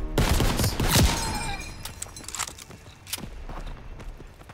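Hip-fired gunshots in Call of Duty WWII on Pointe du Hoc, a burst of loud close shots at the start followed by scattered shots and footsteps.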